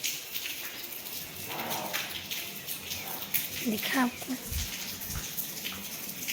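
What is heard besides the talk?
rainwater dripping in the morning rain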